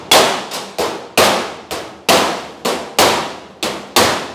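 Hammer tapping sheet metal over a wire edge on the roof of a 1940 Ford-inspired hot rod truck: nine sharp, ringing metallic clangs at a steady, even rhythm, close and loud, each ringing out briefly.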